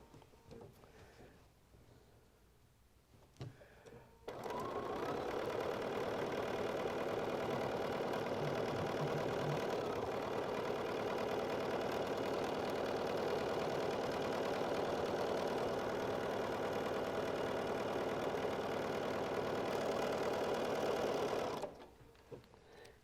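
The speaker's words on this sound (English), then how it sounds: "I want to sew right up to it before I pull it" Sewing machine stitching fabric during quilting runs steadily and loudly for about seventeen seconds, starting abruptly after a quiet lead-in and stopping near the end, with no talking.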